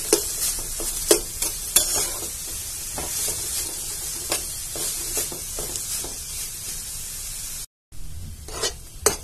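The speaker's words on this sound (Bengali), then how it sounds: "ভালো করে নেড়ে চেড়ে ভেজে নেব।" Carrots stir-fry in a pan with a steady sizzle broken by scraping strokes of a spatula, close and fairly loud with no talking.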